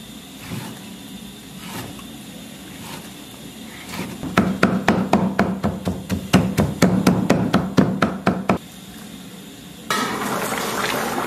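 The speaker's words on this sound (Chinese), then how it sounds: "然后找一块这个金五花肉，用不了这么多啊，有这么一小块差不多了，先给它切成丝儿" A knife chops pork belly into thin strips on a cutting board: after a quiet start comes a close, rapid, steady run of about a dozen crisp chops, then a brief lull and a low background hum. No one speaks.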